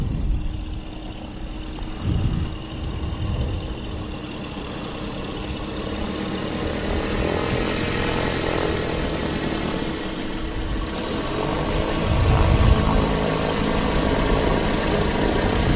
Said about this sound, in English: And there's Cessna, just taxiing in.